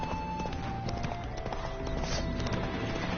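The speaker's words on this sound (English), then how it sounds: "Spooking my horse. Roach doesn't like ghosts." Roach's hooves clip-clop at a steady walking rhythm in The Witcher 3, an even run of soft thuds heard against constant game ambience and music.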